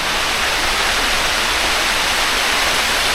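Heavy rain and a waterfall at Khao Chomphu roar together outdoors, a loud, unbroken broadband hiss of falling and rushing water with no break or variation.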